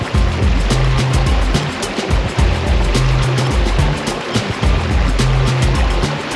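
River water rushes and churns near a waterfall, a loud, close, continuous wash with heavy low rumble and scattered splashes throughout.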